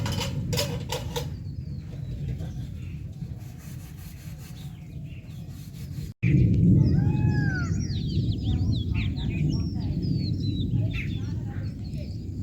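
A small bird chirps in a mountain village during light drizzle. Quiet rustling comes first, then after a brief cut, sharp repeated close chirps and calls ring over a louder, steady background.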